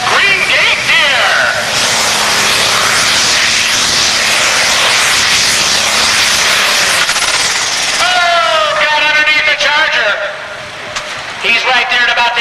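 A John Deere tractor roars down the track at a truck and tractor pull, a loud, sustained engine blast that dominates while an announcer talks over it, with the roar easing toward the end.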